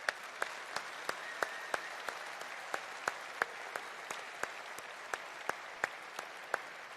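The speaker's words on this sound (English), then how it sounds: "Let's give everyone who's applied a round of applause." Applause rises from the crowd at a political rally in London, a soft, distant hiss of many hands with a few sharper, evenly spaced claps standing out above it.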